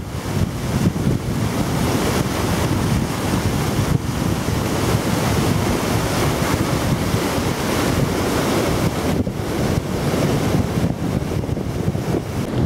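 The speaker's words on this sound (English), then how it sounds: "So here we are at the Reimers Weir." Rushing water at Reimers Weir near Huntingdon, a steady broadband roar of churning flow lasting throughout, with wind buffeting the microphone and no talking.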